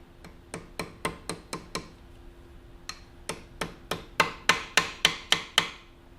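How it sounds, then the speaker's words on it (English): A hammer drives a metal punch to peen a clutch mechanism part on a Yamaha XS650 motorcycle: two runs of sharp, evenly spaced metallic blows, about seven then ten, close and loud, with a short pause between runs. "I'll take the punch and peen it in there"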